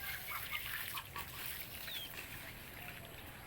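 Ducks quacking at a distance in an outdoor setting, faint and scattered calls over a steady background hiss.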